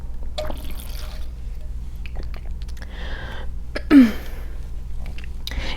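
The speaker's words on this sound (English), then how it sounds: "I need to take a sip of water." Someone takes a sip of water during an indoor talk, with a short liquid slurp and one soft swallow in the middle. Faint rustles and small mouth sounds surround it in an otherwise quiet room.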